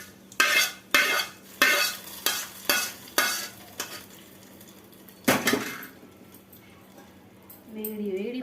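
Hot tempering of curry leaves poured into peanut chutney: a sharp sizzling burst followed by a series of rhythmic scraping stirs of a spoon against a bowl, close and loud, fading toward a quieter tail with faint background voices.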